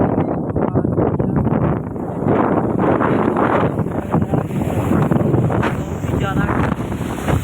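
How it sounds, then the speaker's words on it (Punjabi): Strong windstorm roaring and buffeting a microphone in an open farm field, blowing sand, loud and gusty throughout, with a voice speaking underneath. "ਬਹੁਤ ਜ਼ਿਆਦਾ ਹਵਾ ਚੱਲ ਰਹੀ ਹੈ"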